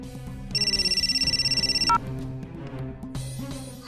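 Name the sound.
telephone ringing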